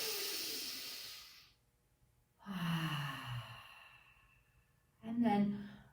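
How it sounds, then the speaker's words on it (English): Deep breaths drawn in and pushed out during a studio qigong breathing routine for surfers, heard as three long, airy, sigh-like exhalations separated by quiet gaps, close and fairly loud. "Let's take 3 big breaths."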